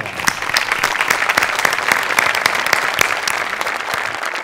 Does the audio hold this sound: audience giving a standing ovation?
yes